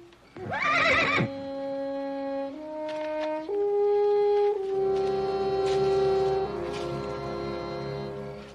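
A horse whinnies loudly and close in an old Western TV scene, one shrill descending neigh followed by long sustained tonal music-like tones, with no talking.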